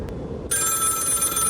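A telephone rings inside a cabin in the horror game The Cabin Factory. The ring starts abruptly partway through, after a dark low rumble, then holds steady and loud with no talk over it.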